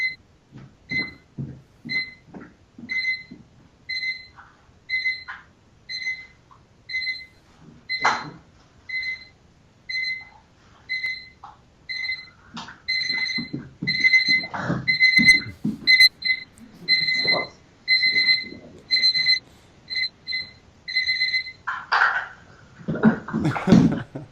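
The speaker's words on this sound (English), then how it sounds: "Alarm clock that doesn't work." An alarm clock that does not work properly beeps in short, regular repeated bursts, close and fairly loud, with brief clatter and thumps between and after the beeping and no talk.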